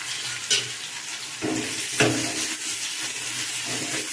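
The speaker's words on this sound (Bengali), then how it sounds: "দিয়ে একটু লাল লাল করে ভেজে নেবো পেঁয়াজটা" Onions frying in a pan with whole garam masala, bay leaves and dried chillies, giving a constant close sizzle broken by a few clunks and scrapes of stirring.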